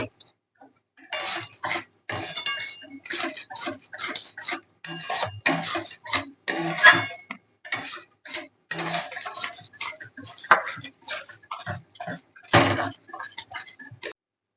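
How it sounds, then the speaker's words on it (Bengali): Spoon scraping and stirring spice masala in a pan for a homemade chicken chaap, a series of close, irregular rasping strokes with brief gaps between them. "মশলাটা ভালো করে আমি নেড়ে নেব।"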